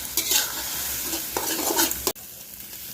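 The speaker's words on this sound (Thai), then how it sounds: "ตามกระเทียมหอมแล้วก็ใส่ไข่ไปผัดครับ" Eggs stir-fry in a hot pan after garlic, with steady sizzling and frying and scraping stir strokes, ending in a sudden clunk and quieter hiss.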